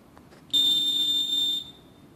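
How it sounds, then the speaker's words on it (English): Lutron RF remote control panel giving a single steady electronic beep, close and clear, held for about a second before cutting off. "till you hear a beep"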